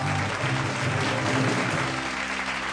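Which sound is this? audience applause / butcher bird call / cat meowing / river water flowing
audience applause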